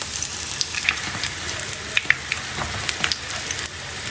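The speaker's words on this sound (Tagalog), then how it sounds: "I-fried natin ang garlic." Garlic frying in a pan, a steady close sizzle with scattered crackles and pops and occasional stirring noises.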